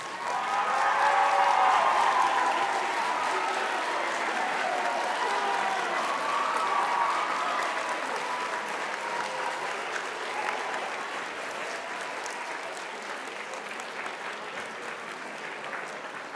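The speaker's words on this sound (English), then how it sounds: "I want all of y'all to stand up and applaud your coaches and teachers" A large crowd at a state mock trial awards luncheon applauds coaches, teachers and parents, sustained loud clapping from many hands that swells early and continues evenly, gradually softening toward the end.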